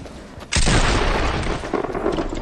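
Gunfire in the video game Fortnite: a single sudden, loud blast halfway through one second, followed by a dense, noisy tail with a few smaller cracks near the end.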